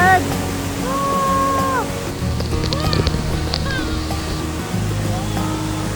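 A 120-metre waterfall in Indonesia roars as a steady, loud broadband rush of falling water close by, with people shouting and talking over it throughout.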